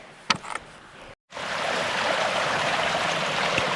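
Steady rushing of water flowing over rocks in a creek on Hope Pass Trail, close and continuous after a brief knock and a short silence.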